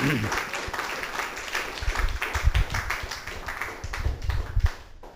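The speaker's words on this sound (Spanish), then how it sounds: "Dale un fuerte aplauso al Señor." A church congregation claps for the Lord in a moderate burst of applause with some louder, uneven thumps, while a voice carries on over it.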